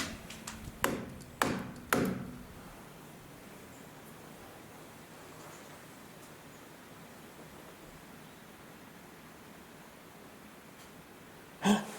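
Three sharp knocks on a surface inside an old building, close and distinct in quick succession, followed by a long hush of room tone and one more knock near the end.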